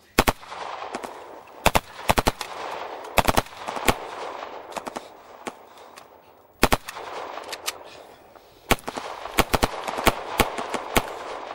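Automatic gunfire crackles in a war film, in sharp, rapid bursts of several shots separated by short pauses. The shots ring out loud and close over a faint rumbling background.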